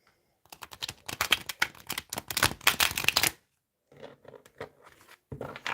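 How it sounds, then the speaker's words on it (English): Tarot cards being shuffled in quick riffling bursts, close and crisp, followed by a pause and a few softer shuffles. "One more shuffle."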